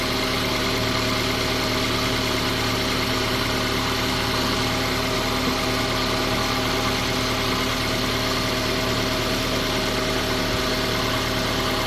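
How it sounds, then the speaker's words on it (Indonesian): A car engine idles steadily with the battery's negative terminal disconnected, a continuous low hum with mid-range vibration running unchanged throughout, no voices. "Mesinnya masih hidup walaupun ini aki yang minusnya dilepas."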